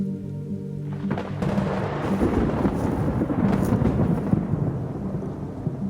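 Thunder from a strong storm cell over the Grand Canyon North Rim, near Route 67: after a quiet start, a loud, deep rumble swells and rolls on for several seconds with rain-like hiss beneath, no voices.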